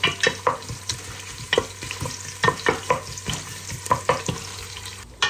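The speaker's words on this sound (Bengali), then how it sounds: "গোটা মশলা একটু ফোড়ন দিয়ে সাথে পেঁয়াজ আর রসুন দিয়ে দিলাম।" Whole spices, onion and garlic fry in hot oil for khichuri, a close crackling sizzle broken by regular scraping strokes of a spatula stirring in the pot, with no talking.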